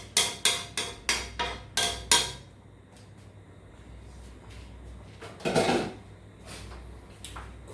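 Rhythmic metallic clanks of a utensil hitting a pot while shrimp pasta is stirred, about seven quick strikes, then quieter scraping and a louder knock.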